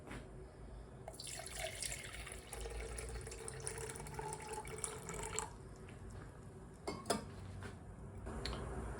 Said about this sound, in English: you just fill it up with water until then